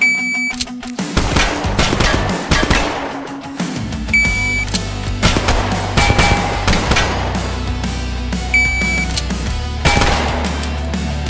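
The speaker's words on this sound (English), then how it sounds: "3 rounds in each target, and then conduct the reloads." Gunfire in Tactical Assault VR, with sharp close shots fired in quick bursts, mechanical clicks and clatter between them, and a steady low hum underneath, with no talk.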